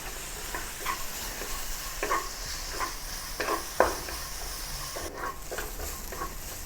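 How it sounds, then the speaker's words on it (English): Onions and coriander seeds stir frying in a pan while a curry of potatoes and peas is being made, giving a steady low sizzle broken by scattered scraping stirs of a utensil against the pan. "Continue stir frying the onion for another few more minutes"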